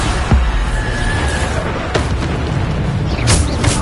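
Bombarda explosion spell from a Harry Potter wizard game, a deep booming blast up close followed by rumbling and crackling debris over a low steady game-action bed, with a second burst near the end.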